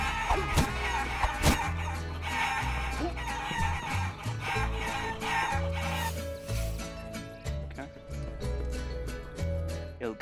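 Chickens cluck and crow repeatedly in the video game Guacamelee, layered over a busy, loud game music score and effects, with someone talking intermittently above it.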